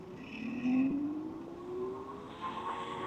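An electric bike starting up a hill on its rear hub motor alone, a rising motor whine that climbs steadily in pitch over a few seconds with faint road and wind noise, no talking.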